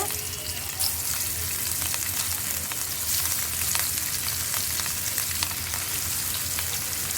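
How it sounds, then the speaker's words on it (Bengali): Oil heating and starting to sizzle in a frying pan for frying fish, a steady close crackling hiss with small pops that runs throughout without pause. "দিয়ে দিলাম পরিমাণ মতো তেল মাছ ভাজার জন্য। তেলটা একটু গরম হচ্ছে।"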